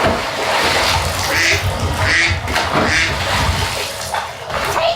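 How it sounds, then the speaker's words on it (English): Ducks on the Serpentine in Hyde Park on a summer day quack in several short, close calls over a steady background of water and ambient rumble. "feeding the ducks"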